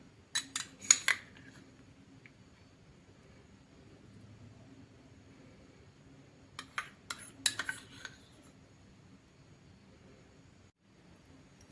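Eggplant salad with mayonnaise and French mustard is stirred together, producing two clusters of close, crisp utensil clicks and scrapes against a bowl, separated by several seconds of near silence.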